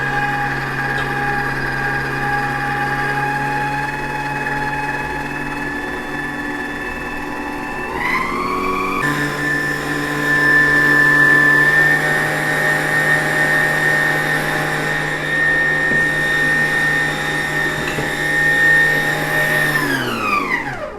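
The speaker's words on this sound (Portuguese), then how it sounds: "Aqui ainda não terminou de bater os ovos e a manteiga e o açúcar" Electric stand mixer beating eggs, butter and sugar for a homemade cake: a steady, loud motor whine that dips and shifts pitch partway through, runs on evenly, then winds down at the end, with no talking.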